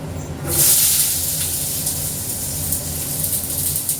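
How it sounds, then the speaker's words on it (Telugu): Onions and green chillies hit hot oil in a steel pot with mustard and cumin seeds, and a loud, steady hiss bursts out almost at once and carries on, bright and close, with no talk. "ఇప్పుడు ఆనియన్స్ అండ్ పచ్చిమిర్చి కూడా వేస్తాను నేను."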